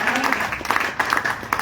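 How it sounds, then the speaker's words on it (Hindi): Steady crowd clapping fills the hall at a seminar-style gathering, a continuous spread of hand claps with small surges and no clear pauses. "आप सोचो, आपके लिए ताली बजाया जा रहा है।"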